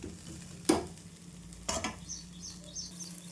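A vegetable breakfast frying in a pan hisses softly and steadily, broken by a couple of sharp clinks and scrapes of a utensil pressing the food.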